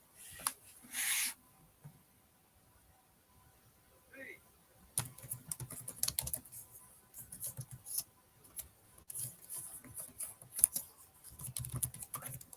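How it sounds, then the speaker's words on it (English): Someone types on a computer keyboard in a quiet room, with soft irregular clicking bursts and pauses, faint and close. "I'm just typing something so I don't forget it"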